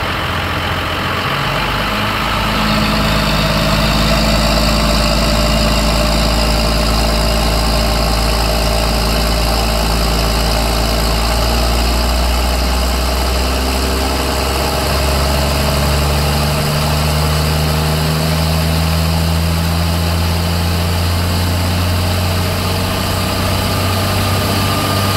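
A tractor engine runs at a steady idle with its PTO shaft engaged, a continuous low rumble with mechanical vibration and whine, close and unbroken throughout with no voices.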